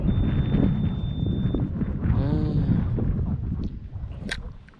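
Strong wind at sea buffets the microphone on a fishing boat in a steady rumbling roar. Faint creaks and small knocks come through, and the sound fades slightly toward the end.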